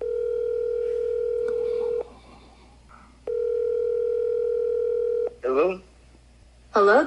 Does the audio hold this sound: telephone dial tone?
yes